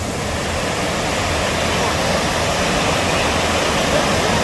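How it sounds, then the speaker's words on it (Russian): Water pours out of the turbine hall of the Porozhskaya hydroelectric plant as a loud, steady, broadband rushing roar, close and unbroken, with no one talking. "Вот, собственно, выход воды из машинного зала."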